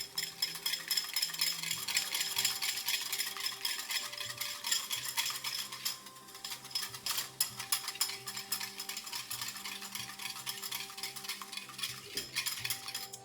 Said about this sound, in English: we'll go ahead and give that a stir as well